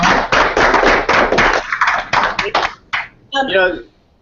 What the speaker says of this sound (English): let's give a round of applause and thank our two guest lecturers